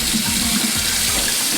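Tap water runs steadily into a kitchen sink while rice is rinsed under it, a loud, continuous close rush with no voices.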